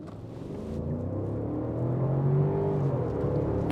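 Range Rover SE three-row SUV accelerating hard in sport dynamic mode, with a low engine rumble that swells as the revs climb, steady and heard from inside the cabin.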